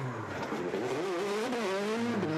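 A rally car driven by Craig Breen on hard slick tyres in the wet, slewing through a half spin at a muddy first hairpin on the 2014 Circuit of Ireland, engine note rising and falling with faint tyre scrub, loud and close.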